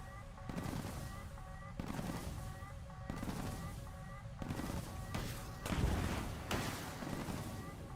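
Repeated heavy bursts of gunfire from War Thunder vehicles boom in regular volleys about a second apart, dense and punchy over a continuous engine drone, with a deeper blast near the sixth second.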